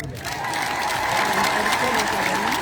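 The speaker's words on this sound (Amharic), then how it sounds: "ለዲያቆኑ አጨብጭቡለት።" A church audience bursts into loud, sustained applause for a deacon, with a dense patter of clapping that fills the space and a voice heard underneath.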